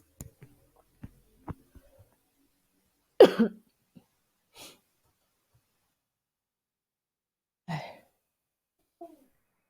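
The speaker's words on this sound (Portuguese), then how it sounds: "me deu uma crise de tosse" A few harsh coughs in quick succession, then a pause and another cough, with faint small clicks and movement noises in between.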